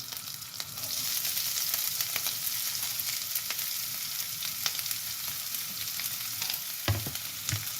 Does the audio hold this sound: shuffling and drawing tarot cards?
no